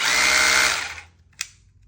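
A Makita cordless rotary hammer drill whines loudly at high speed, then spins down to silence within about a second, followed by a brief click.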